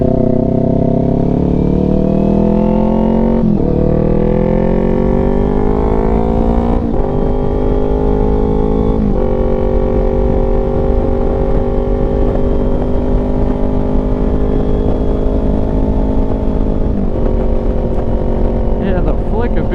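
A motorcycle fitted with TST V2 stacks exhaust rides along in a lane. The engine drones loud and close for the whole stretch, its pitch climbing and easing through several shifts as it is tossed back and forth.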